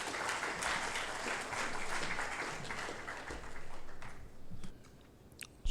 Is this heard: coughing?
no